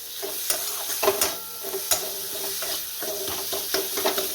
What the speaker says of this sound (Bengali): একটু মশলাটা ভালো করে কষা হোক